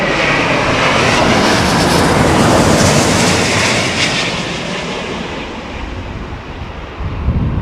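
A China Airlines airliner at London Heathrow during stormy weather gives off a loud, broad jet roar that stays close and then slowly fades a little, with no talking.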